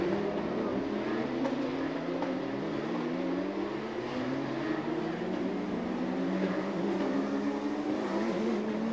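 Porsche Carrera Cup Asia race cars run on the Bangsaen street circuit in Chonburi under safety conditions, a continuous engine drone with several rising and falling pitch sweeps as cars pass at moderate distance.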